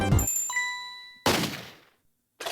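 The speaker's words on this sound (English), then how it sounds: "we'll try to distract him by ringing this bell." A bicycle bell in the Ghost Trick video game gives a bright metallic ding that rings out and decays, followed by a short burst of noisy game sound and a further brief hit at the end.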